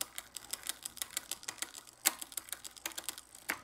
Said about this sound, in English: make adjustments to your derailleur if you're finding it being noisy